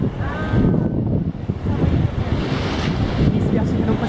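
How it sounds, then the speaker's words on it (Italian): Waves and wind on the open sea fill the whole stretch, a loud, steady broadband roar with rough buffeting from the wind. "Siamo nel mare aperto."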